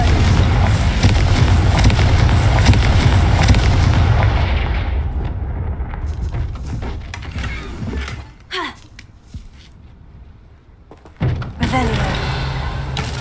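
Expelliarmus and Confringo spells cast in the video game Hogwarts Legacy: a long, loud barrage of booming, gunfire-like blasts that fades into quieter moments broken by a few sharp impacts, with some voices present.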